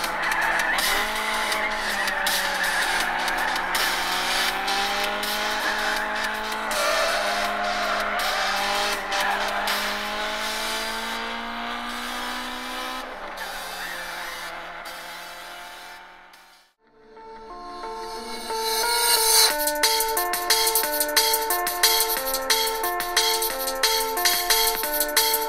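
Test playback through the HTC One M8 smartphone's stereo front speakers, loud and alone: a racing-game clip with squealing tyres and engine whine, a short dip to near silence, then a bright, rhythmic electronic tune.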